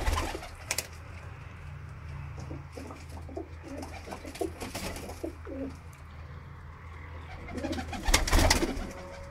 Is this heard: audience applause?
no